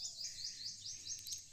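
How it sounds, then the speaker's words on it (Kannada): Birds chirp and tweet in a rural plantation on a summer morning, a quick repeating run of bright high calls, fairly faint and alone over a quiet background. "ಹಕ್ಕಿಗಳೆಲ್ಲ ಚಿಲಿ ಚಿಲಿಪಿಲಿ ಅಂತಿದ್ದಾವೆ"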